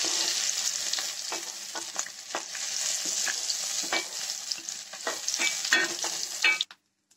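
Paneer cubes sizzle loudly in a hot pan while a spatula scrapes and stirs them in quick strokes, the crackling frying continuous until it cuts off abruptly near the end.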